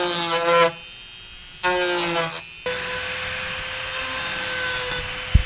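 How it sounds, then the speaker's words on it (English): A Dremel rotary tool sands a Rocket Bunny duck tail spoiler on a Nissan 350Z. Two short high whining bursts are followed by one steady, continuous loud whine that runs to the end. "So got a Dremel tool."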